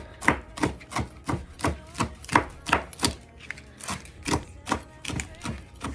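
A kitchen knife chops three strips of bacon on a board for a broccoli salad, with a steady run of crisp, close knocks at about two per second and no talking.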